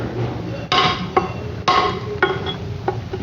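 A hammer drives a chisel into stone while a mason shapes a stone to fit a gap in a wall, giving about five sharp, ringing strikes spaced irregularly at close range.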